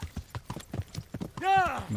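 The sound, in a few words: horse hooves in video game Kingdom Come Deliverance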